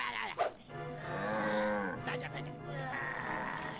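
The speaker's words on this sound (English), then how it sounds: "You can't tip a cow while it's awake, Crash. It has to be asleep." A cow in the Crash Tag Team Racing video game lets out a long, loud, drawn-out moo with a falling pitch, following a short grunt, with game sounds around it.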